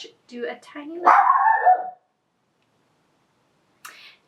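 A dog barks in a loud cluster of yelps and barks over a second long, following brief talk during an indoor makeup session, then a faint trailing yip; not usually a barker.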